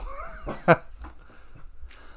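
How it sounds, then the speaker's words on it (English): A pet dog indoors gives a whimpering, yelpy vocalization with one sharp loud yip near the middle, followed by fainter whines and a brief voice. "it's not a video without my dog barking"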